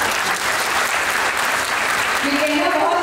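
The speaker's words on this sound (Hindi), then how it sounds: "सो आई रियली वांट कि आप अपने लिए ताली बजाएं" A seated audience at the Bharat Heritage Olympiad Awards Ceremony 2021 bursts into sustained, dense applause that stays loud and steady throughout, with a few faint voices mixed into the clapping.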